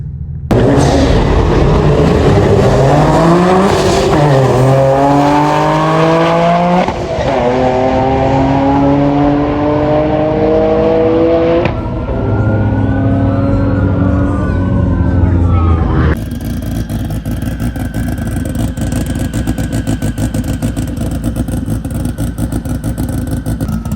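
A boosted Nissan 370Z with a custom dragpack launches down a drag strip, its loud engine revving hard and climbing through several gear shifts before settling into a sustained, distant roar.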